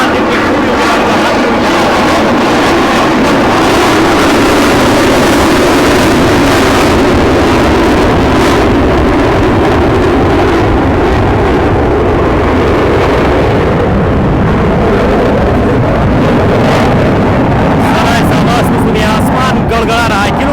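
Rafale fighter jets roar overhead at an air show display, a loud, continuous, rumbling and thundering jet noise that fills the whole stretch and surges near the end.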